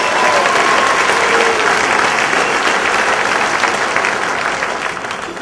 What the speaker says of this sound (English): So I'd like to give you all a round of applause.